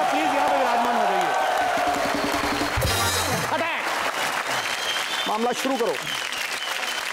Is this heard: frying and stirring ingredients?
no